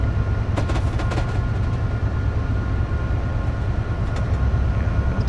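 A freight train in Train Simulator 2017 coasts through Newport: a dense, continuous rumble of wheels and engine with faint rail clatter and ticks, steady and loud throughout, no talk.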